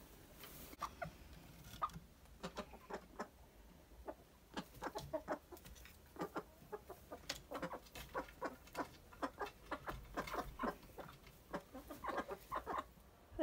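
Many hens clucking close by, short repeated clucks in an irregular chatter throughout, with no talking.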